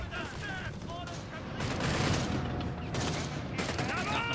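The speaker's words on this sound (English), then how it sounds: "Letting loose here with heavy automatic fire" Heavy automatic gunfire in a Company of Heroes 3 battle: sustained machine-gun bursts, loud and rolling, swelling midway with mechanical rumble and distant booms, and a voice speaking over parts of it.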